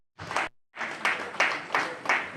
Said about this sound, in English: Keep clapping until he gets to my desk.